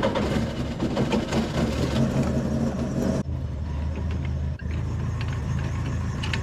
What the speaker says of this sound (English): I want to start it up while it's in gear and just check that everything's spinning all right.